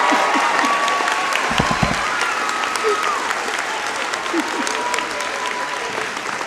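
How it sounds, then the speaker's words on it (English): A commencement crowd applauds its graduates at a college ceremony, sustained loud clapping from a large audience with scattered cheers and faint voices mixed in. "as we applaud your astounding efforts"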